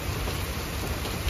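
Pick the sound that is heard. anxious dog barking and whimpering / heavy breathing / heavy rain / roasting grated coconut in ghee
heavy rain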